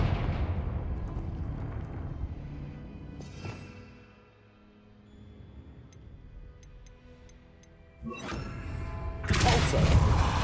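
A Confringo fire blast spell in the Hogwarts Legacy video game, giving a loud rushing burst near the end after quieter ambient rumble and a few small ticks, with an earlier smaller whoosh.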